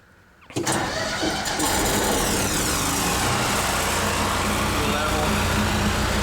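A 2015 Ford F350 4x4 diesel service truck with a Knapheide welder body cranks briefly, then its diesel engine catches and settles into a loud, steady, close idle with no talk over it.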